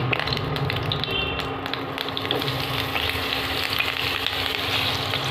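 Paneer cubes fry in hot oil for a paneer butter masala, giving a steady, close, dense sizzle and crackle that holds at an even level throughout with no voices.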